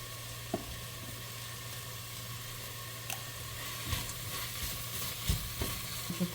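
Garlic frying in coconut oil in a home kitchen pan alongside tomato and mushroom for an egg semiya dish, a soft steady sizzle and hiss with a few faint stirring clicks, no talking.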